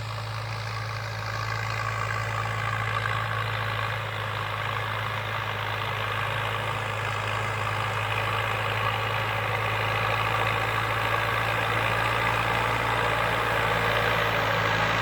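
A Ford tractor engine runs steadily while pulling a six-disc plough to raise ridges for cassava planting, a loud continuous low drone with a constant hum and no break throughout.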